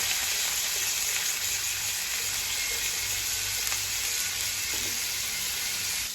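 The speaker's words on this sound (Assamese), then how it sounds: "1 মিনিটৰ কাৰণে ভাজি ল'ম।" Onion, tomato, ginger and garlic frying in butter for paneer masala, giving a dense, continuous sizzle with faint stirring noises.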